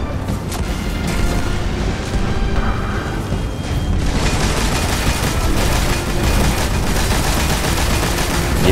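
The Thunderlord machine gun in the shooter Destiny: House of Wolves fires in long, loud, continuous bursts, a dense rattling roll with booming impacts and no speech.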